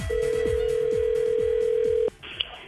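An outgoing call to a Waffle House rings back: one long steady tone lasting about two seconds, with a repeating clicking pulse beneath it, then a brief click and a quieter line noise.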